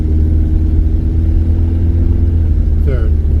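A Chrysler K car's engine hums and revs steadily through its automatic transmission's gear changes, loud and close, with a rising shift near the end and people talking over it.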